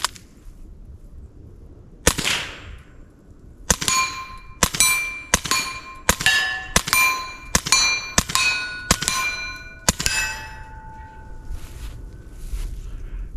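A suppressed .22 LR Ruger MKIV pistol with a Tactical Solutions integrally suppressed upper fires about ten shots at steel plates, each a sharp ringing clang in a steady rhythm, after one earlier separate hit, with metallic ringing trailing off.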